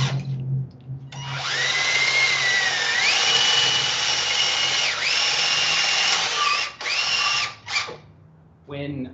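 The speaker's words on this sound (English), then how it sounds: "it's maybe a challenge drilling through a 2x6 right here" A power drill bores a hole through a 2x6 board during tree cabling and bracing work. The motor whines loud and steady for several seconds, bogs as it bites into the wood, then stops in short bursts near the end.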